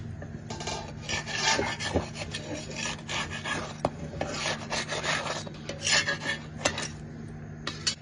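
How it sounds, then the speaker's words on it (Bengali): Naan dough made with whole wheat flour and topped with black cumin is pressed and rubbed by hand on a surface, giving steady close rasping and scraping strokes with a few sharper knocks, and no talking. "এবার একটু প্রেস করে দিচ্ছি এদিকে দেখুন"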